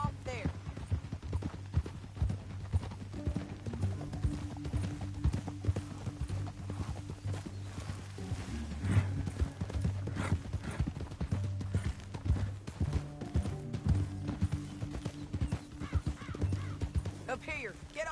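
Horse hooves clip-clop in a steady, rapid rhythm throughout in the video game Red Dead Redemption 2, close and continuous, mixed with a low game soundtrack hum.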